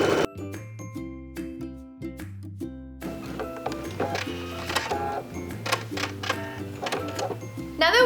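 Sewing machine stitching a 1/2 inch seam on a tote bag: a quiet, even mechanical whirr in short runs with brief pauses, while someone talks over it.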